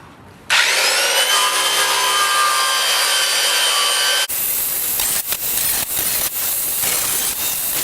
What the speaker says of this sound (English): now I'm going to cut a piece out here so I can make a gusset.